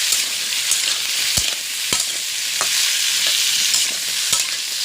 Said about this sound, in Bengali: আমি এটা একটু ভালো করে ভেজে নিচ্ছি